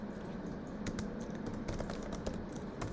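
Fingers type on a computer keyboard in a quiet room, with quick, irregular clusters of key clicks close to the microphone.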